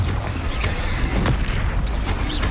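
Bombarda and Confringo spell blasts in Hogwarts Legacy during a troll fight, heard as loud, dense booming bursts with crackling explosive noise layered over the game's rumbling background.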